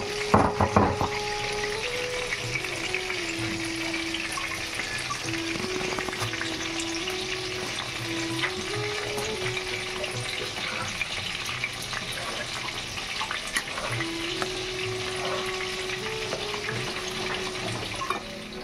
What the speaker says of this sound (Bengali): চিলি চিকেনগুলো আমি ভেজে নিচ্ছি, চিলি চিকেন মাংসগুলো